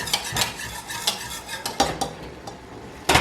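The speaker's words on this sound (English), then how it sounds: "I'm going to add it to this mixture. stirring the whole time" Sugar is stirred into a Welch's grape juice mixture for grape jelly, and a spoon scrapes and clinks against the pot in irregular, sharp taps with a soft swishing between them, close up and with no talk.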